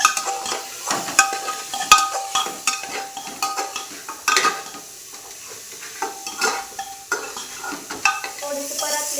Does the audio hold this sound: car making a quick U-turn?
no